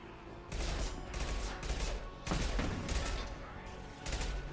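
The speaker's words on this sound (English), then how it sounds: "Nice spread on those bullets." Rapid bursts of gunfire from the video game Mass Effect 2 crackle in several loud volleys separated by brief lulls, with dense, sustained shooting.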